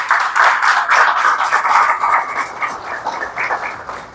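A church congregation applauds the Lord during a sermon, a dense burst of many hands clapping close and loud, rising quickly and gradually thinning out over a few seconds.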